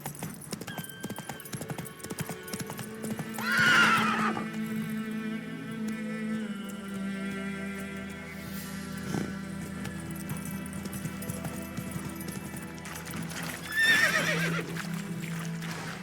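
Roach, the horse from The Witcher 3, trots with a steady clip-clop of hooves and gives two loud, close neighs, one early and one near the end, over background game music.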